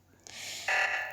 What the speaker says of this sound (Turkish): Evet bu alarm oksijen alarmı.